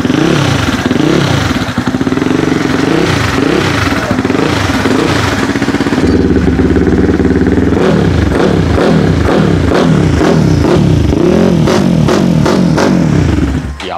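A Rusi Flash X 250cc motorcycle with a dual injector and silencer is revved, a loud, close, throaty engine note that rises and falls in repeated bursts over a steady idle.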